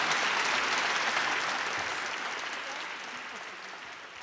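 Crowd applause welcoming basketball player Angel McCoughtry at a women's athletics luncheon, a thick continuous wash of clapping from many hands that gradually fades toward the end.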